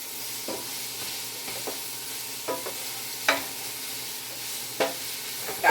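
Vegetables with broccoli and Italian seasoning cook in a pot under a steady faint hiss, with a few scattered spoon clinks and stirring knocks spread through it, close and without talk.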